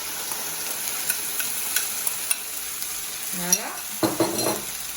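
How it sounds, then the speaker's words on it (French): Grated potato and beans frying in sauce, a steady soft sizzle with a few light utensil clinks and stirring scrapes, and a brief spoken word near the end. "Donc je vais rajouter les haricots pour que ça soit baigné dans la sauce."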